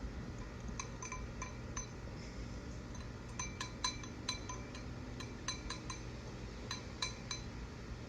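Spices for a steak rub, garlic powder among them, being mixed in a bowl: a light clinking and scraping of a utensil against the dish recurs in irregular taps over steady background noise, close and fairly quiet with no talk.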